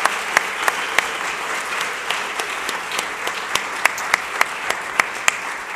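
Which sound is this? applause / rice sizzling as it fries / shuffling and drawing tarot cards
applause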